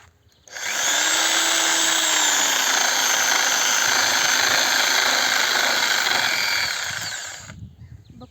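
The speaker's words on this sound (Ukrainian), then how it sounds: "Випробуємо з вами нову мою пилку Зеніт. Будемо пиляти цю айву" A Zenit power saw starts up and runs at a loud, steady high-pitched whine for several seconds while cutting a quince branch, then winds down and stops.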